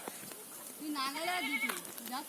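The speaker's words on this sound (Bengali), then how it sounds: "কি ছাগল ছাগল" A goat bleats in a wavering, drawn-out call near the middle, with voices in the background.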